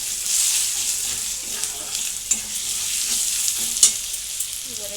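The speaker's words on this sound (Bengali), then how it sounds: "এবার মশলাটা একটু ভেজে নিয়ে" Spice masala with cumin powder and green chillies fries in a pan with a close, crackling sizzle. Brief spoon scrapes and stirring knocks punctuate the sizzle.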